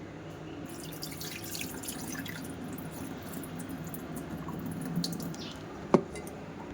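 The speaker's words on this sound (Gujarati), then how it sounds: "રાત્રે મેં ચણાને પલાળી લીધેલા હતા અને હવે એક વખત તેને પાછા પાણી કાઢીને ધોઈ લેશું" Water sloshing and dripping as soaked chickpeas are rinsed, a soft continuous wet swishing with a sharper splash near the end.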